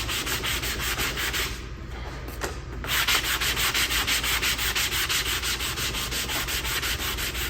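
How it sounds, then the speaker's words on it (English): Steady back-and-forth sanding strokes of a sanding block rasp across a painted surface, close and continuous with a brief pause early on, no voices. "I'm going to take my sanding block and sand that out"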